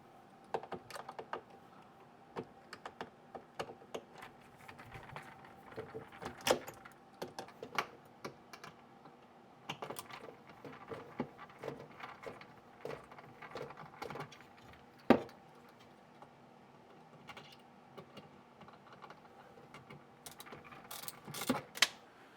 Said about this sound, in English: So we're going to take those off, those screws off, and continue.